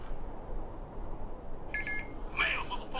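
A phone gives a few short electronic beeps in a room during a Skyrim gaming session, two brief tonal bursts over steady background hiss.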